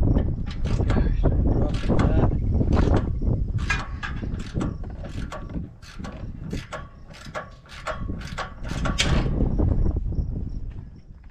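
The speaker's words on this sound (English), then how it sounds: "You want to get a 9/16 socket or wrench? socket for right there." Ratchet socket wrench working a nut on an engine being replaced, a rapid close clicking ratchet in repeated bursts with short pauses, loud and dry, with brief mechanical clanks between strokes.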